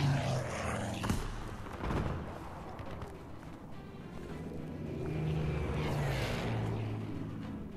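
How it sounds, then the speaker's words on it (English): A propeller warplane roars overhead during a Battlefield V multiplayer match, a steady engine drone that swells and fades across the sky amid game noise and a brief sharp impact. "That plane could definitely fuck my day up."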